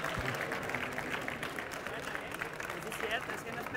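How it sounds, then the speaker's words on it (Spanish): An audience at a Campus Party tech talk applauds after the presentation, a short dense burst of clapping mixed with crowd noise and some voices. "Un aplauso,"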